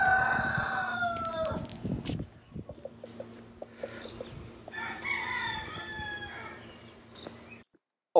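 A rooster crows and a chicken clucks in a small Indiana town, with harmonic crowing calls near the start and again mid-clip over a steady low background hum, then quiet at the end.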